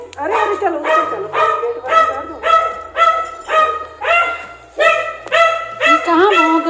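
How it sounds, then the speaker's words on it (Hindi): A dog barks repeatedly at a relative's home, about a dozen loud, evenly spaced barks close by, with a few whimpering yips near the end. "ये कहाँ भौंक रहा है?"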